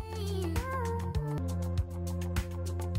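A cat meows in a few short, drawn-out calls over steady background music with a regular beat, the animal's voice rising and bending in pitch near the start.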